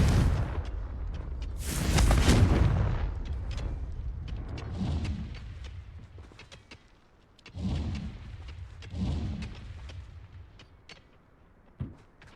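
A Confringo fire spell blast in the Hogwarts Legacy video game on PS4, a loud rumbling burst followed by further booming impacts and crackling debris, with quieter gaps between the hits.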